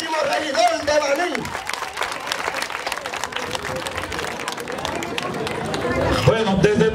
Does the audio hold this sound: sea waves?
no